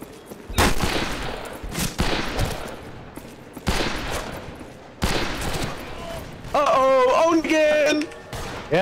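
Loud, sharp shotgun blasts ring out one after another in a game match, several separated reports with a rattle of other gunfire, while players talk and shout over them.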